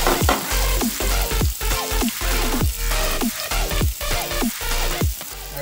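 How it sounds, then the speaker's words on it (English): Chopped onions hit hot oil with cut chili, setting off a loud, steady sizzle with repeated scraping stirs across the pan; no talking, about five seconds of frying for a ridge gourd curry. "Then add in the onions."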